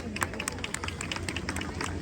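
Audience applause at an Independence Day event in Indra Nagar, Delhi, dense rapid clapping from a crowd mixed with a babble of voices.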